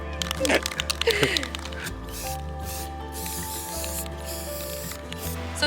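Gold spray paint hisses in short aerosol bursts onto oven burner covers outdoors, close and fairly loud, while people talk over it.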